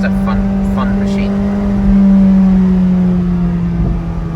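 A McLaren 570S Spider with a turbocharged engine running 25 psi of boost accelerates, a steady engine drone swelling in loudness from inside the cabin with a person talking over it.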